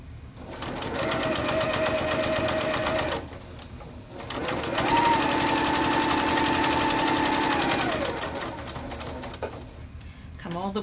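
A sewing machine stitches the seam of a surgical scrub cap in two long, steady runs of rapid mechanical whirring, separated by a brief pause, close and loud with a little talk.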